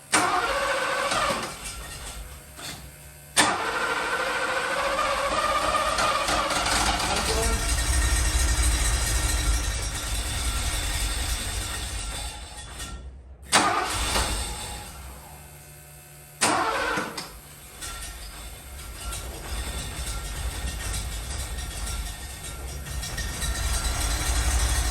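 A vehicle engine cranks and catches, then runs steadily at a loud, near idle with rumbling low end, briefly cutting out and restarting partway through.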